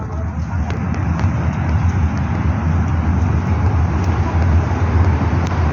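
Steady roar of road traffic beside a parking area, with car and vehicle noise rumbling continuously and loudly throughout, with no talk.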